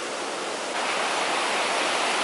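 A mountain river rushing over small rocks at a forest campsite, a steady close broadband wash of flowing water with no voices.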